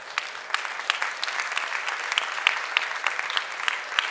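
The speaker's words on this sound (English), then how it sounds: "please give yourself and everybody else a huge round of applause" An audience claps at a conference on the Life Science Stage, a steady wash of many hands with sharper individual claps, moderately loud and continuous with no voices over it.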